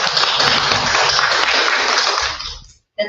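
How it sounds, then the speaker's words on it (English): Church congregation clapping at a Sunday service, a thick burst of many hands that holds steady, then fades and cuts off into silence before a brief fresh patter starts up. "That's clapping."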